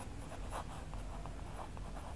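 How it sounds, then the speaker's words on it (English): Writing on a board during a maths lesson on iterative methods: faint, soft scratchy strokes in short bursts over a quiet hum, with no voice. "See, I'm going to write here"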